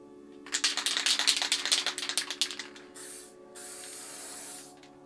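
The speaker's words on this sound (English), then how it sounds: "Just spray some paint through a skinny cap." Spray paint can fired through a skinny cap that sits poorly on the can: a sputtering, rattly burst of spray followed by smoother steady hisses, close up and alone.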